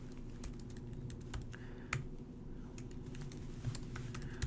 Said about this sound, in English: So all that I do is type in this other one.